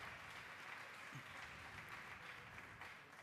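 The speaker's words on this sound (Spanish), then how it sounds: "Sube al escenario, un aplauso para Mula." A crowd at a Counter-Strike 1.6 esports grand final applauds steadily as a player walks onto the stage, a dense, even wash of clapping that continues unbroken throughout.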